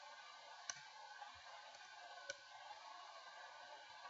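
A computer mouse button gives two faint, separate clicks about a second and a half apart over a low steady hiss.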